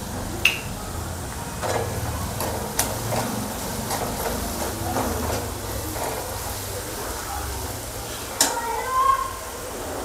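Onion softens in a pan for kachori filling, with a low, steady sizzle under occasional sharp scrapes and clinks of a spoon stirring, close by, while someone talks.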